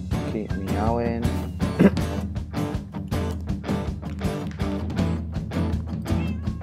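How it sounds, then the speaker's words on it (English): Cat meows from a Minecraft Block Hunt mini game, a quick run of repeated short meows over constant busy game sound, with a voice partly heard underneath. "Keep meowing."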